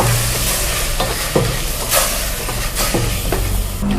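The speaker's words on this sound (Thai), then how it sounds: "ผัดไป เรื่อยๆ จนหมูของเราเนี่ยพอสุกนะคะ" Pork is stir-fried with chilies and a splash of water in a hot pan, giving a constant loud sizzle and hiss with repeated scraping strokes of the spatula every second or so.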